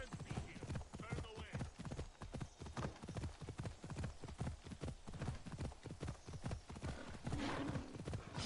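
Horse hooves clip-clop steadily and fairly close in Assassin's Creed Odyssey, a brisk, even rhythm of hoof strikes that runs throughout, with a brief whinny near the end.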